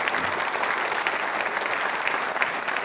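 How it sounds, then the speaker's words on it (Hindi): Audience applause at a quiz show for trainee state civil services officers, a steady, dense clapping from a large indoor crowd that holds at an even level for the whole stretch. "तालियां जोरों से बजाइए इस संकल्प के लिए।"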